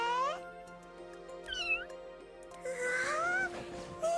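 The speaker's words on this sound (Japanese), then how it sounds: "うわー、猫ちゃんだ" A domestic cat meows several times, with a drawn-out call at the start, a short mew in the middle and longer rising meows near the end, close and clear in a quiet room.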